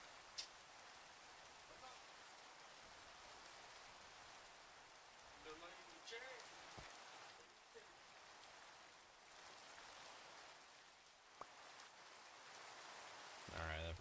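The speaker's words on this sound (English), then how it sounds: "It's always raining in my world" Rain in the Minecraft video game makes a faint, steady hiss throughout, with a few scattered clicks and no talking.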